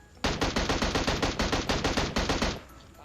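Automatic gunfire in the mobile battle royale game PUBG Mobile, a rapid burst of about fifteen evenly spaced loud shots lasting over two seconds, then a brief fading tail.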